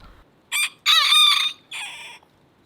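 A rooster crows nearby, a loud drawn-out call broken into three bright segments, with quiet outdoor background.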